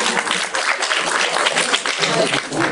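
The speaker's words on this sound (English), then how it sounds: "Let's give a round of applause for Mrs." Audience applause for Mrs. Lim during a genetics lecture on RFLP and DNA fingerprinting, a steady, dense wash of clapping from a class that runs loud and unbroken through the whole stretch.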